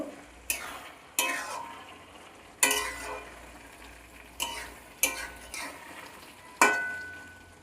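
A spatula scrapes and stirs bottle gourd greens with ghee in a pan: seven sharp strokes at an uneven pace, each followed by a soft fading sizzle, close by and with no voices.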